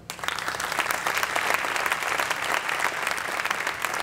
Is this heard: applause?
yes